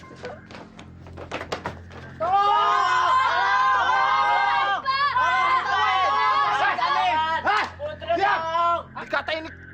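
A group of prisoners in a cave-like jail yell and shout together for help, a loud, sustained chorus of overlapping voices with scattered thumps around it.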